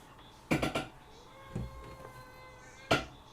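A black cat meows a few times, short close calls spaced across a quiet room, with brief knocks or handling sounds between them.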